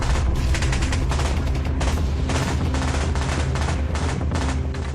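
Dense, loud gunfire breaks out in a continuous fusillade of overlapping shots and booms, sustained without pause and with no talk.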